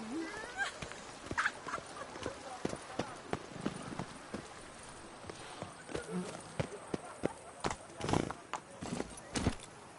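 Roach, a horse in The Witcher 3, gallops in a steady clip-clop of hooves with an occasional whinny, close and fairly loud, while voices talk over it.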